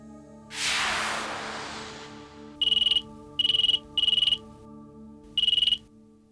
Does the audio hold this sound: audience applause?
no